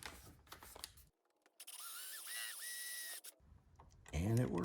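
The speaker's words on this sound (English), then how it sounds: "The only thing left to do is to drill a hole through to the other side" Up close, a drill bores a hole through a guitar headstock to make room for the truss rod wrench, whining steadily for about two seconds with brief noisy handling before and after.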